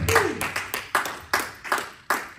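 A church congregation claps in rhythm in praise, about eight sharp, fairly loud claps in a steady beat, with a brief voice heard at the start.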